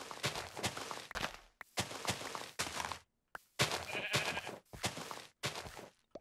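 Sheep in the Minecraft video game bleat in a string of repeated loud calls with short gaps between them, close and clear, with no talking over them.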